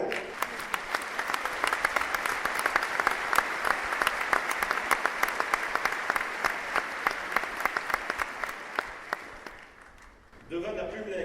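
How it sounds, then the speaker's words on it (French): Sustained ovation from a roadside crowd at the Tour de France for five-time winner Bernard Hinault: dense, loud clapping with scattered sharp claps running for about ten seconds, then fading out as other noise takes over. "ça vaut bien une ovation pour le blaireau"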